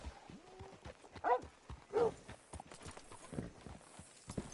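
Horse hooves clip-clopping in the video game Red Dead Redemption 2, a string of uneven clops on hard ground with a couple of louder snorting sounds, fairly close, with no speech.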